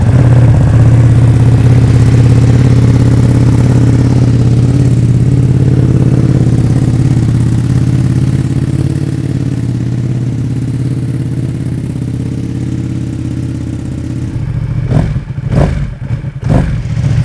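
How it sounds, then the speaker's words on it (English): Ducati Panigale V2 motorcycle fitted with an Arrow titanium slip-on exhaust, running at a loud, close, steady idle with a deep throb, then a few sharp blips of the throttle near the end. "here is the first start of this Panigale V2 with the aero slip-on"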